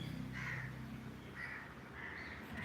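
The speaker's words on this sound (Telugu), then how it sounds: "ఎందుకు కాకులు వచ్చినాయండి" Several crows caw in short bursts at a moderate distance, over a steady low background hum with no talking.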